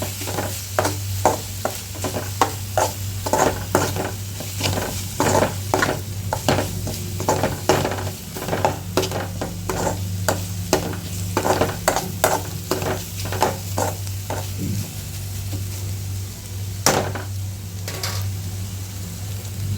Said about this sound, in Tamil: இது எல்லாத்தையும் நல்லா மசாலா வாடையெல்லாம் போகிற மாதிரி நல்லா கிண்டி விட்டுக்கலாம்.